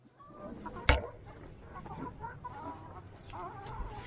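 Chickens kept in an allotment garden clucking in soft, low, scattered calls close by, with a sharp knock early on and quiet outdoor background around them.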